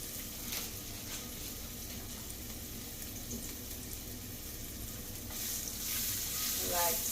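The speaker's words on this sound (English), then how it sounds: "I'm just gonna add my red peppers." Red sweet peppers are added to a hot pan of frying pink oyster mushrooms and broccoli and stirred, making a steady, close sizzle with scraping stirs throughout and brighter bursts of frying near the end.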